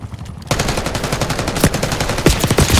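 Rapid automatic gunfire fills a Call of Duty: Black Ops 6 multiplayer match, loud and close, with dense bursts of shots rattling continuously after a brief quiet opening.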